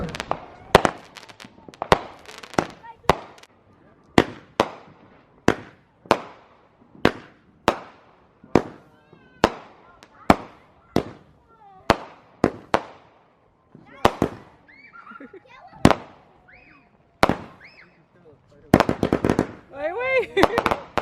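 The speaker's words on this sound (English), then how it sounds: "Throwing fireworks." Fourth of July fireworks burst outdoors as a long series of sharp, loud bangs at an uneven, fairly quick pace, with crackling in places, a few whistling rockets and a dense flurry of pops near the end.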